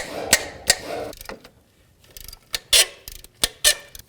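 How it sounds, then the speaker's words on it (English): A 14 mm ratchet loosens an alternator mounting bolt on a 1999-2003 Toyota Solara, giving a handful of sharp, close mechanical clicks and clacks spaced irregularly with quiet gaps between them. "I'm going to break free this alternator mounting bolt here with a 14 millimeter"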